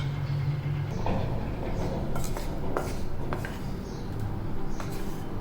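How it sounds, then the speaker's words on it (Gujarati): Boiled quinoa is drained of its water in a kitchen pot, giving a steady, close rush of pouring water with scattered metallic clinks of the pot and utensils, and no talking. "આવી રીતે તેને એક વાસણમાં લઈને બધું પાણી નિતારી લેવું"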